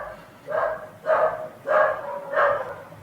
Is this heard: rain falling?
no